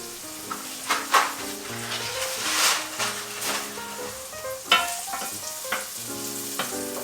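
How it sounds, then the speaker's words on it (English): Mushrooms and garlic sauté in butter in a pan, a lively close sizzle with repeated scrapes and taps of a utensil stirring through the pan. "our mushrooms and garlic and butter are nice and browning"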